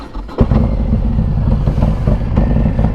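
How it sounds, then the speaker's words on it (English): A 2019 Harley-Davidson Fat Bob motorcycle with an S&S 128 engine starts with a thump, then runs loud and throaty with a couple of short revs over a rumbling idle. "Turn it on here and give you a couple revs."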